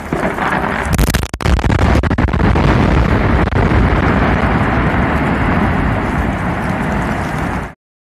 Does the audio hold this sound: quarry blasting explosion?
yes